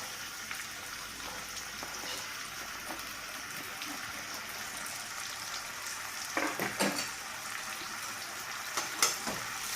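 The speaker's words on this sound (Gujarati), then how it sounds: "હવે આપણા બટેટા અને ટમેટાને આમ ક્રિસ્પી જેવા થઈ ગયા છે અને હવે તેમાં આપણે ભીંડો નાખશું" Potatoes, tomatoes and okra fry in a pan with a steady, soft sizzle, punctuated by a few louder scrapes and clatters of stirring near the end; no one speaks.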